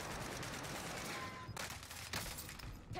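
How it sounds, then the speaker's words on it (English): Gunfire in the Call of Duty Warzone video game, with bursts of shots cracking out in a clustered volley and sharp reports near the middle and later on, set over constant background noise and heard fairly faintly. "Taking fire here."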